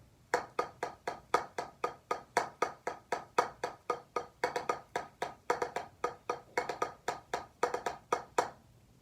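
A steady stream of sharp, close drum strokes in paradiddle sticking mixes single taps with quick doubled hits in a repeating pattern, played alone without talk.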